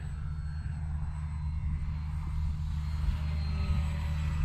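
An RC model airplane, a HobbyZone Carbon Cub S2, drones steadily with a buzzing hum, holding a constant pitch as it flies close by.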